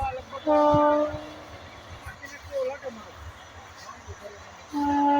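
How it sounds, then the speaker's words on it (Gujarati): Train horn blasts from a passing train near rail tracks by a farm field, sounding twice with sustained harmonic tones at the start and end, with a low rumbling passage and voices talking in between. "રેલગાડી નીકળી રેલગાડી"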